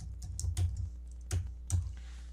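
Keys tapped on a computer keyboard in a few quick, soft clusters, close and quiet, with no talk.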